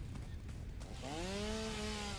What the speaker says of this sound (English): All right, now that I've got the chainsaw,